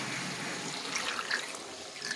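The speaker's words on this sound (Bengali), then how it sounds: "গরম জলটা দিয়ে দেবো।" Hot water pours steadily into a pan of fish and potato curry, a close, continuous splashing trickle lasting about two seconds.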